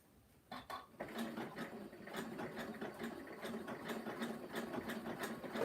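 A sewing machine runs a zigzag stitch on a rope basket, a steady rapid mechanical chatter close by after a brief start, running alone without talk.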